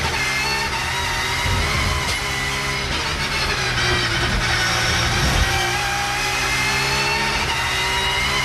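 A 1990s touring car engine runs steadily through a race at a circuit, a dense mid-pitched drone with rising and falling revs and no pauses.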